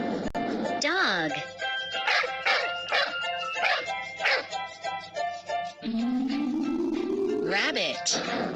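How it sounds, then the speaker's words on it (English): Dog sounds up close: a string of short barks and yips, then a whimpering, rising whine toward the end, like an animal-sound recording for children. "Dog."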